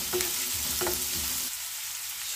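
Onions and green chilies sizzle in a hot pan while a spoon scrapes and stirs them in a couple of quick strokes, then the frying hiss continues more quietly.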